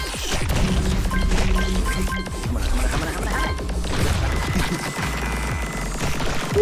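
Flame shot weapon firing in The Bug Butcher video game, a dense, continuous barrage of crackling impacts and bursts, loud and busy throughout.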